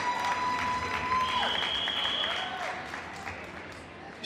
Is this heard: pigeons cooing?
no